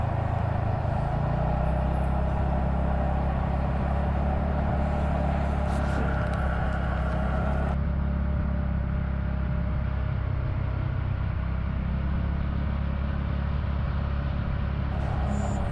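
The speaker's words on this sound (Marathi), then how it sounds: "गाडी थोडी स्लो केली, म्हटलं थोडा व्हिडिओ काढूयात." A car drives slowly along a misty road toward Kalu waterfall. A steady low engine hum and rumble of road noise from inside the vehicle carries on throughout, with no talking.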